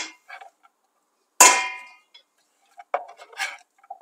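Chopped onions tipped into a cooking pot: one sharp metallic clang with a ringing tail, then a few lighter clinks and scrapes, close and fairly quiet.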